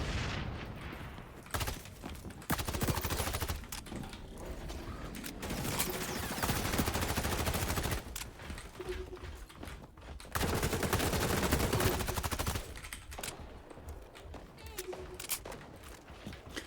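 Rapid gunfire rattles through a first-person shooter game, bursts of automatic shots in dense volleys with short pauses between, loud and close, with occasional footsteps and a voice talking in the gaps.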